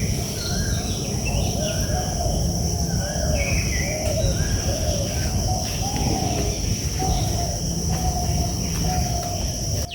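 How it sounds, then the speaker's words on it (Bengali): Birds sing and chirp repeatedly amid village greenery, with short bright calls recurring over a steady bed of insect buzzing and rustling background noise. "দেখুন কি সুন্দর পাখি ডাকছে"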